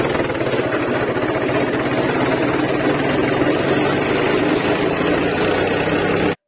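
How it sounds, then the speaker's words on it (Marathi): A tractor engine runs steadily while driving, a loud, close, continuous low diesel rumble with rapid rhythmic chugging and vibration that cuts off abruptly at the end. "किती वेळ झाला ट्रॅक्टर पुढे जातच होतो"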